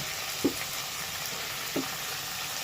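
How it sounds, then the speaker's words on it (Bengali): Onion, garlic and ginger paste fry with prawn-head juice in a pan, a steady close sizzle with two brief stirring scrapes and no talk. "এটাকে ভালো করে একটু কষিয়ে নিতে হবে এবার দিয়েছি পেঁয়াজ রসুন আদা বাটা"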